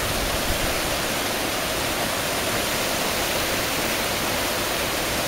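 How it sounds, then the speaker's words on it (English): Steady broadband roar of a waterfall along a hiking trail near Manali, India, a constant rushing wash of falling water that stays even and unbroken throughout, with no talk over it. "There's the waterfall."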